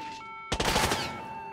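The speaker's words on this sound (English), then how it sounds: "What are they shooting at?" Gunfire in the Hitman video game, a sudden rapid burst of shots after a quiet half second, loud and close, then decaying into a ringing tail over a steady tonal hum.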